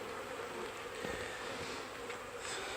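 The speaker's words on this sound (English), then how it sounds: "There'll be more bees acting on either side of it." Honey bees buzz in a Flow Hive Hybrid, a dense, steady hum of many insects close by that holds throughout at a low, even level.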